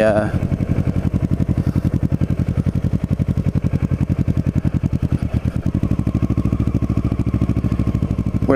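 Kawasaki Ninja 650R motorcycle being ridden near North Cape May, its engine pulsing steadily and loudly close by throughout, with a faint voice underneath.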